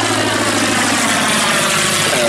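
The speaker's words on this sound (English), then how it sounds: "Powered by the original French built aeroplane under license." Fieseler Storch aircraft with its 240 horsepower Argus AS10 inverted V8 engine running close by, a loud, steady propeller drone with a low throbbing hum that holds constant throughout, no voices heard.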